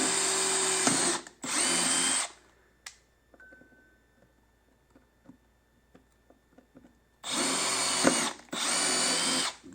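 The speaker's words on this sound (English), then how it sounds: "now we drill that hole." A power drill bores a hole for an amplifier connector in a motorcycle audio shop, with two loud sustained bursts at the start and two more near the end, separated by quiet clicks and handling.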